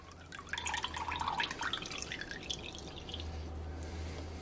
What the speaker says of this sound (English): I just want to get most of that liquid out